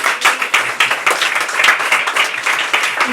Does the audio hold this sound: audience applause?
yes